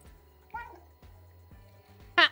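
A cat meows in the video game Stray, a short meow followed by a louder, sharper one near the end, over a low rhythmic electronic hum with soft thumps.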